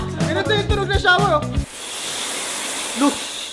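A voice imitates a running shower with a steady breathy hiss after a few seconds of speech, the hiss continuing alone and fairly loud.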